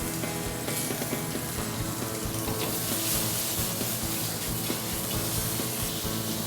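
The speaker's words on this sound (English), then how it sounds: "So now, this is where our shrimp meets the pan." Raw shrimp hitting a hot pan during a shrimp with garlic dish, a steady broad sizzle hissing continuously and fairly loud with no voices.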